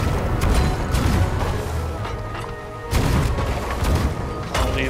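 Cannon fire in the pirate video game Sea of Thieves: heavy, deep booms recur every couple of seconds over a dense, noisy game soundscape.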